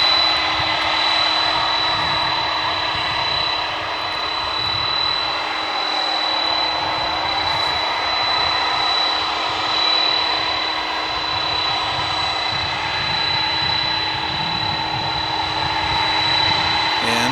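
A UPS cargo jet dating from 1995 roars at Dallas/Fort Worth airport at night, a loud, steady engine rumble and whine sustained throughout, swelling slightly midway.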